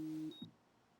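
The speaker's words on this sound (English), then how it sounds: "My alarm's going off." A phone alarm blares a loud steady droning tone for a fraction of a second, then stops abruptly, leaving a brief faint beep and a soft thump before quiet.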